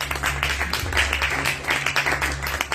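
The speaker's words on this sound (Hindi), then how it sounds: "एक बार फिर से मेरे लिए ताली बजाई" A church congregation claps together during a service, producing a moderately loud, steady patter of many hands. A low electrical hum runs underneath, and faint voices are mixed in.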